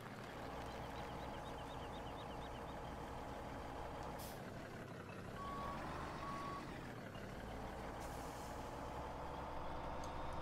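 A truck in the Farming Simulator 17 game reverses with a steady series of backup beeps over a constant engine drone, joined by a short air-brake hiss, all loud and close with no talking.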